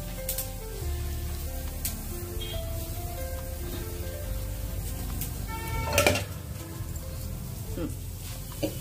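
Onion frying in a small amount of oil, a soft steady sizzle with occasional clinks of a utensil, under a continuous background hum with some speech.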